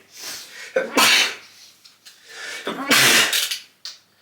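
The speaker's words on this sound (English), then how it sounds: "Apologise for the sneezing" Two loud sneezes close to the microphone, each preceded by a sharp intake of breath.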